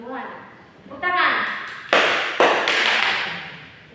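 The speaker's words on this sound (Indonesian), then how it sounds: "Tepuk tangan." Applause bursts out in a classroom during a microteaching lesson on photosynthesis, starting as scattered taps and swelling into loud, dense clapping from the class that carries on to the end.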